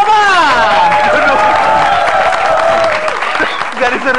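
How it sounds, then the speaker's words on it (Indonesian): An audience applauds and cheers for a stand-up comedian, a loud sustained wash of clapping mixed with crowd voices and shouts from start to finish. "Tepuk tangan. Kita menghargai Pak Komar"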